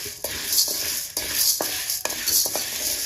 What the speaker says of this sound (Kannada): ಕಡಲೆಬೇಳೆ ಸ್ವಲ್ಪ ಕೆಂಪಿಗೆ ಬರೋ ರೀತಿ ಹುರ್ಕೊಳ್ಳಿ